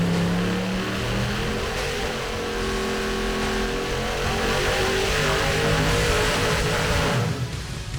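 Twin-turbo LS V8 in a C10 pre-runner truck roars through a sustained wide-open dyno pull, pitch climbing steadily for about seven seconds before the throttle lifts and the note drops away. Loud and close, with no talking.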